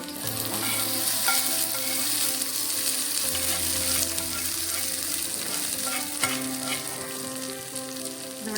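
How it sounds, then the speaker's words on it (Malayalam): Mustard seeds sizzle and crackle in hot oil in a pan for beetroot pachadi, a steady close frying hiss with scattered pops and a stirring utensil scraping the pan throughout, without speech. "നമുക്ക് കടുക് താളിച്ചു"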